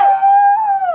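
A person's voice imitates a hyena call, one loud, close, sustained wavering howl-like cry lasting about a second.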